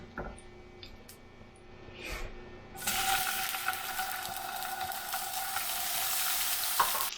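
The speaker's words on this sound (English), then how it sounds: "the reason why I'm frying these tomatoes is, again, for us to have that kind of charcoal grilled flavor" Tomatoes frying in a pan, a bright steady sizzle that starts abruptly after a few quiet handling clicks and keeps crackling close and loud to the end.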